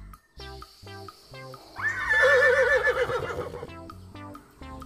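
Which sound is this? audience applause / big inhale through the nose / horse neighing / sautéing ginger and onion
horse neighing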